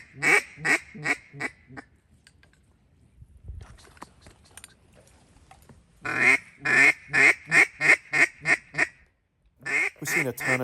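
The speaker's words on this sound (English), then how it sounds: "We've seen a ton of ducks fly into the pond early this morning." Ducks at a pond in eastern Kentucky give loud, rapid runs of quacks in two bursts separated by a quiet gap, near and clear.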